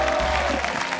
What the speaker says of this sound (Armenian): Կատրին Գասպարյան, բարձր ծափարենք